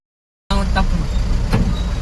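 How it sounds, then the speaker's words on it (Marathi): Steady engine and road rumble from inside a Bolero pickup truck being driven, starting abruptly after a moment of silence, with a couple of faint clicks or rattles in the cabin. "पिकअप चालवतोय मी आत्ता."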